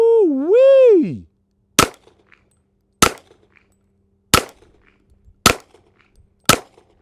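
A Beretta 90-Two .40 S&W pistol fires five sharp, loud shots about a second apart, each ringing briefly. A voice gives a sliding whoop just before the shots.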